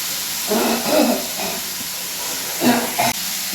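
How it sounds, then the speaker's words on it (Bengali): Potatoes sizzle steadily in a frying pan in a home kitchen, a continuous close hiss of hot oil with slight swells, while a voice murmurs faintly in the background. "এই দেখুন মা আলু ভাজা বসিয়ে দিয়েছে"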